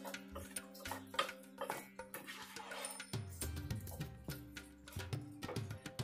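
A wooden spoon stirs and scrapes strawberry lemonade jam in a pot, giving a run of soft knocks and clinks against the pot's sides, close and fairly quiet, with a steady low hum underneath.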